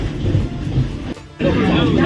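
A Vande Bharat Express on the Howrah to New Jalpaiguri run produces a loud, steady low rumble inside the coach, briefly dropping away for a moment before resuming, with a voice talking over it.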